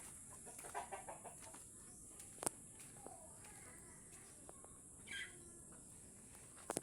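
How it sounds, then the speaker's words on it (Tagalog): Quiet clucks and a few short calls from chickens in a coop shared with ducks come through faintly over a constant high insect-like hiss, scattered and irregular. "Ito po yung kulungan ng manok namin at itik."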